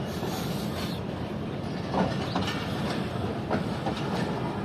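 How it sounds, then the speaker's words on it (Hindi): Karakoram Express passenger train with economy class coaches running from Faisalabad toward Lahore, a steady close rumble with rhythmic wheel clatter throughout, no voices. "ट्रेन जा रही है लाहौर की तरफ"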